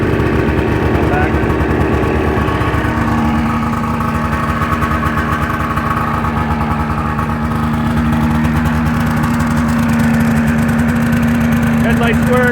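A 2003 Ski-Doo MXZ 600cc snowmobile engine idles loudly and close, a steady throbbing two-stroke rumble that holds even throughout.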